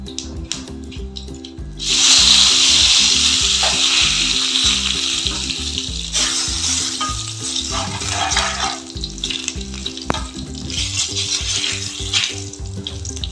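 Panch phoron and bay leaf hit hot oil for pumpkin chhokka, breaking into a loud, steady sizzle about two seconds in that holds evenly to the end.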